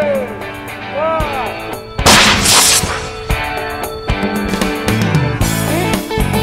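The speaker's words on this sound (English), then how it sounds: "a big steel bottle rocket" A big steel bottle rocket fires with a loud whooshing blast around two seconds in, followed by sharp cracking bangs amid a busy, noisy outdoor background.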